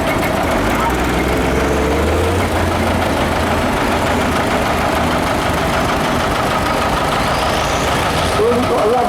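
A historic agricultural tractor engine runs steadily and loudly during an arena parade at the Laughton Autumn Show, a continuous low rumble with a voice talking over it.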